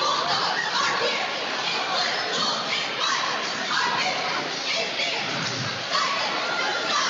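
Olmsted Falls cheerleaders cheer at a high school varsity basketball game, a steady loud wash of young shouting voices and crowd noise that carries on without a break.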